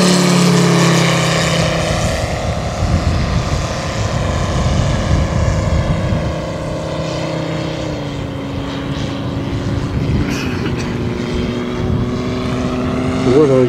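Radio-controlled scale model propeller airplane flying at an airshow, a loud continuous engine drone whose pitch rises and shifts as it climbs and passes, with someone commenting throughout.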